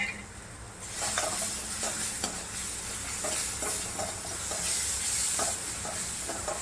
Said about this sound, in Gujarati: આ લીલો મસાલો આપણો સાતળી રહ્યા છીએ